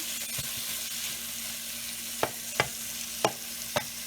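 Onion, tomato, green chili, mint, coriander and boiled eggs fry together in a pan for egg biryani, an even close sizzle under four distinct spatula knocks against the pan near the end, with no talking.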